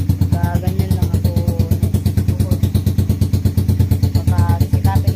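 A motorcycle engine runs close and loud at a steady, rapid pulsing idle, with brief bits of voices faintly over the beat.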